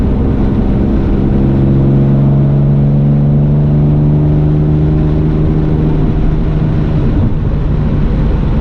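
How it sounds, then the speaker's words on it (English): A powerful Jaguar E-Type engine revs steadily and loudly, its pitch climbing gradually as it pulls through the gears, with no voices. "You can hear the engine notes fabulous, particularly when I'm up around 3000."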